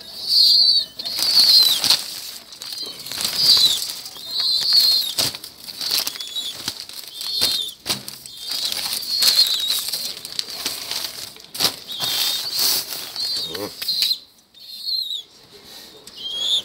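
Pigeons at a Turkish pigeon loft, wings flapping in repeated close, loud bursts across the clip, with chirps and coos from the birds mixed in between.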